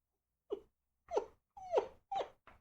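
A person imitates a whimpering dog with five short, high, whiny cries, each separated by a pause and heard alone and fairly close.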